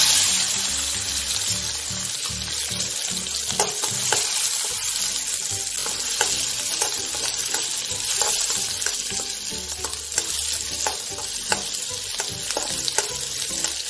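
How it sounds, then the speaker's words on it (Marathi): Onion frying in oil in a wok for a spicy Maharashtrian sev bhaji gravy: a steady, close sizzle with repeated scraping stir strokes, no voices. "कढईमध्ये थोडंसं तेल टाकून घेऊया। कांदा फ्राय करून घेऊया अगोदर।"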